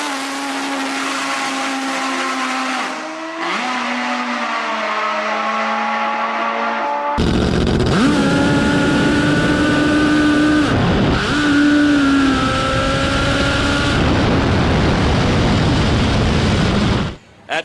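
Nitro Voodoo top fuel drag bike on a run, a loud, continuous high-pitched engine roar that climbs in pitch, briefly dips at gear changes and grows louder partway through before cutting off.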